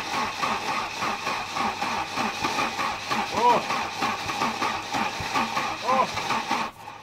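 A Volvo car that has sat unused for six years cranks and tries to start, a rough engine grinding under talk, with short surges and a sudden stop near the end.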